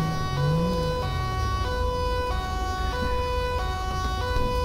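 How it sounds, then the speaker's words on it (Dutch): Police siren in the GTA 5 LSPDFR police game, a loud two-tone wail alternating steadily over several cycles above a low engine rumble, with no talking. "Je zet je sirene normaal gesproken uit als je ergens stil staat."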